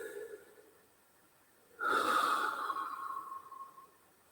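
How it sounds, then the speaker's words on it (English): Loud, exaggerated breath heard close up: a quiet lull, then a sudden strong airy exhale with a rough, slightly nasal edge that carries on for over two seconds. "just amplify it, exaggerate it so you can really hear your breathing"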